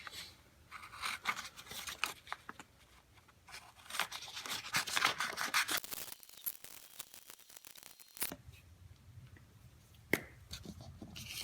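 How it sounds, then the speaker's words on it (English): Scissors snip through paper while a paper-craft figure is cut out, a run of close, quiet, irregular cuts with soft rustling and no talk. "So I'm going to cut this out."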